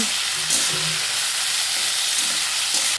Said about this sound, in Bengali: 4টে পেঁয়াজ একদম পাতলা করে কেটে নিয়েছি, সেই পেঁয়াজটাই এখানে দিয়ে দিলাম। দিয়ে দেওয়ার পর কিছুক্ষণ নাড়াচাড়া করে নেব